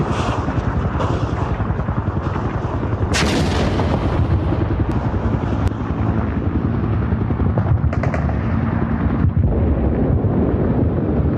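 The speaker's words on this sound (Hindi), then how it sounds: "सबसे पहले आप इजराइल के टेल अवीव शहर में ईरान के इसी क्लस्टर बॉम्ब के हमले की ये तस्वीरें देखिए" Loud, continuous rumbling blasts and booms from an Iranian cluster bomb attack on Tel Aviv, with sharp crackling bursts layered over heavy low roar and wind-like noise throughout, no voices.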